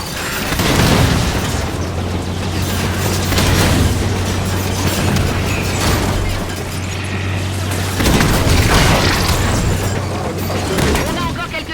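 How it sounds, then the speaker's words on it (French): Booming explosions and an enemy turret firing in a Halo 5 campaign mission roll in loud, repeated waves over a low droning hum, while French voices talk over the battle. "Leur tourelle me tire dessus."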